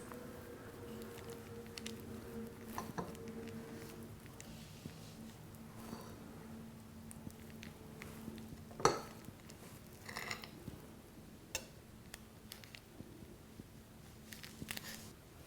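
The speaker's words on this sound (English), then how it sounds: "So I'm going to cut myself a slice and you can just see how amazing this is." A knife cuts a slice of vegan chocolate cheesecake and scrapes the plate, giving faint clinks and soft taps with a sharper clink near the middle, all quiet and close.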